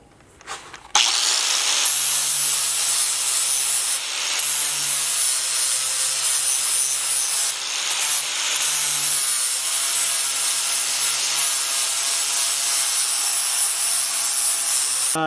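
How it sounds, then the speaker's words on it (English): The end of a steel tube is beveled before welding for a one-ton steering link: a loud, continuous abrasive grinding rasp runs nearly unbroken for about fourteen seconds after a short quiet start, with a few brief dips. "just kind of bevel the end of this tube"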